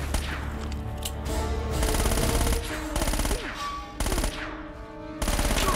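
Gunfire in Uncharted: Drake's Fortune, with loud rapid automatic bursts that start and stop in several stretches, separated by short gaps with lighter shots and game noise.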